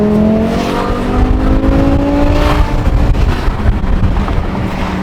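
A BMW M5 accelerates hard on a highway, its engine note rising steadily under loud, continuous wind and road roar, with no talking.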